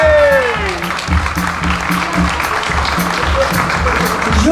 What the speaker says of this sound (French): Alors, on peut applaudir bien fort.